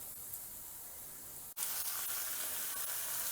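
Finely chopped large onions fry in a pan with a steady, quiet sizzling hiss that breaks off briefly for a moment and then resumes just as evenly, with no talking over it.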